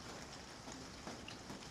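Steady rain falls in a backyard on a stormy day, a soft continuous hiss of drops with a few faint nearby patters and no voices.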